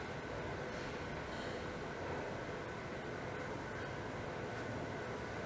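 A Toronto subway train arrives at a station with a steady, moderately loud rumble and hiss, a continuous drone with no voices.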